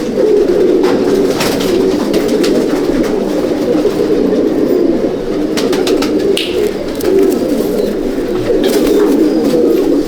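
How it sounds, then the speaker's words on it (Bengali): Many Malwai racing pigeons coo inside a loft, a loud, dense, continuous chorus of overlapping low coos close by, with occasional light knocks and flutters. "এই এক পেয়ার পায়রা দেখো"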